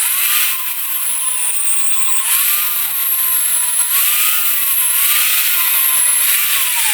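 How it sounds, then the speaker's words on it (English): Power tool, likely a grinder, beveling the edges of steel plate for welding while building a welding table, a loud, steady high whine that rises and dips slightly as the tool bears on the metal. "Now I'm just beveling back the edges a little bit,"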